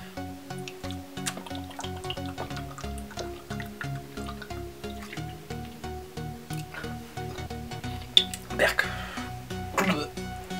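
Orange blossom water from a 250 ml bottle is gulped down in repeated rhythmic swallows and liquid glugs, fairly close and steady, ending with a splashy sputter and bottle handling noises.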